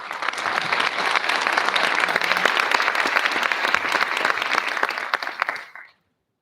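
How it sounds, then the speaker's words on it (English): A school awards-ceremony audience claps steadily in sustained applause for a middle school string group, dense and even, then fades out quickly at the end. "Another round of applause for the middle school strings."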